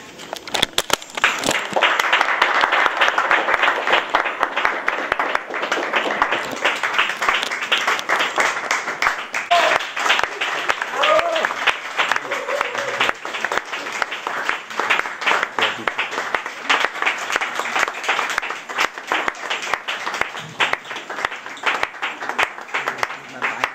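A crowd applauds steadily and loudly from start to finish, dense clapping keeping up for over twenty seconds in a live performance room, with a voice faintly heard at points.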